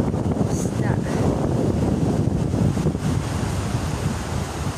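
Waves and wind on a seashore at sunset, with fishing boats parked along the beach: a steady, loud broadband wash of surf and gusting wind fills the whole stretch without a break.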